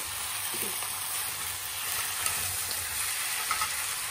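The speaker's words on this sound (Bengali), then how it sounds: "এই যে মরিচটা সুন্দরভাবে কষানো হয়ে গেছে।" Chili being fried and stirred in a pan with a little salt, giving a steady, close sizzle with faint scraping stirs through the whole stretch and no talk.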